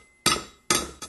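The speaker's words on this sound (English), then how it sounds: "I was just working up with the pick hammer" A pick hammer strikes the edge of an aluminum bronze knife three times, each blow a sharp, loud metallic ring that decays quickly, spaced about half a second apart.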